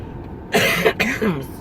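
A few rough, throaty coughs in quick succession, close to the microphone, with a breathy wheezy quality.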